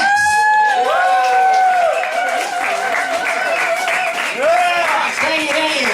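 An audience claps to welcome a performer on stage, the applause sitting behind loud, close announcing speech that dominates throughout.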